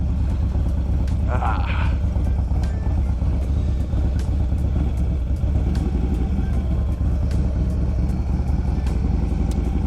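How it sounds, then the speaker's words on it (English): A Harley motorcycle engine rumbles steadily throughout with a low, throbbing idle, and a brief higher-pitched sound briefly cuts through the engine noise. "Still sounds like a Harley."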